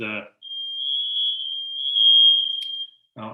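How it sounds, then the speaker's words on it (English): A smoke alarm sounds one long, steady high-pitched tone for a few seconds, with a voice briefly before and after it. "sounds like my smoke alarm going off"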